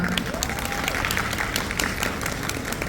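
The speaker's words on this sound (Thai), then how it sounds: "ขอเสียงปรบมือให้หน่อยได้ไหมครับ" A crowd applauds with dense, sustained clapping, moderately loud, with some voices mixed in, at a press conference in Bangkok.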